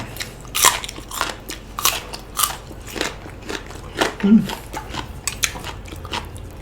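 Someone eating Thai noodles with chicken and bitter melon, with close, repeated crunchy bites and chewing in an uneven rhythm, loud and near, with a brief voice partway through.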